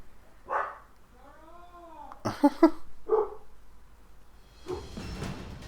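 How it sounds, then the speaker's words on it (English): A few sharp dog barks sound in quick succession, separated by brief gaps, with other short noises scattered around them. "there's my dogs barking"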